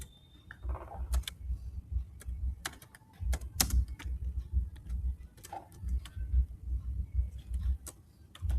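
Keyboard typing into an Excel text box: irregular light clicks and taps in short bursts over a low background hum, fairly quiet and close, no voice.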